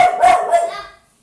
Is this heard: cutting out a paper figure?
no